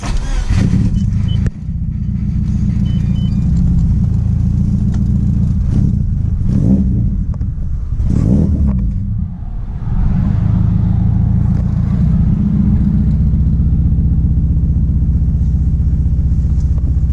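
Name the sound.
2004 Subaru STI engine revving with full Grady exhaust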